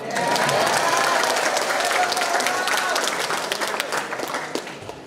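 Applause rises from an audience at a public university lecture, a full, close burst of many hands clapping that stays strong and slowly thins toward the end, with a bit of crowd murmur underneath.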